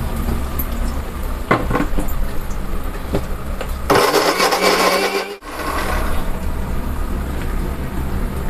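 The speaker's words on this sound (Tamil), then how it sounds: "அதுக்குள்ளே தக்காளி அரைச்சிக்கலாம்." A mixer grinder blending tomatoes whirs loudly in one brief burst of about a second and a half, then stops, while steady sizzling and kitchen clatter continue underneath.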